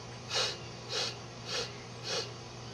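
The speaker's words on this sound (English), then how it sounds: "That's a breathing technique where you're going to inhale, inhale, inhale, inhale" Four sharp, evenly spaced sniffing inhales through the nose, a qi gong percussive breathing technique, close and breathy, repeating in a steady rhythm about every half second.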